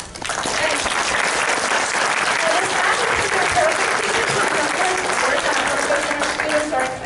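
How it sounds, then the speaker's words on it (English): Sustained applause from a large crowd at an awards ceremony, dense and steady clapping that fills the whole stretch without a break. "I want us to clap for our students"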